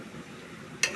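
Potatoes, bitter gourd and green chillies fry in a pan, a soft crackling hiss with a sudden stirring scrape right at the end of the short moment.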